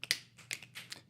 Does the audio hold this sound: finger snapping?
yes